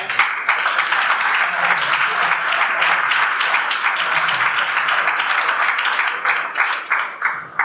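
An audience at a New York pitch night event applauds, a full sustained burst of clapping that stays loud and even, breaking into more distinct separate claps as it fades near the end.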